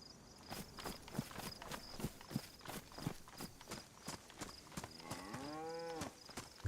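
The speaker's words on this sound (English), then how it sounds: "I'm hearing cows." Cows mooing in the DayZ video game on the Livonia map, with a drawn-out moo near the end that follows a steady run of clopping footsteps in a quiet outdoor setting.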